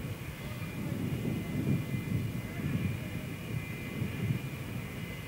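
A presidential aircraft arriving at Riyadh airport in 1978 gives a steady, moderate engine rumble that swells and eases gently throughout, with a faint high whine above it and no talk.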